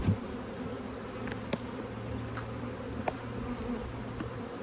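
Honey bees hum steadily around an open hive during a colony split, a dense continuous drone with a few individual bees zipping close past, no voices.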